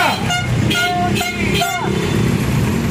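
Several car horns honk in short overlapping toots over loud traffic rumble and a crowd shouting, at a street protest.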